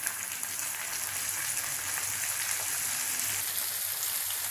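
Onion rings and tomato pieces dropped into hot oil in a pan, giving a loud, steady crackling sizzle close by that holds without a break, with no talking.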